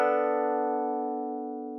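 A lo-fi chord built in FL Studio and transposed up one octave holds steady as a bright, sustained synthetic tone, fading gently over almost two seconds with no other sound.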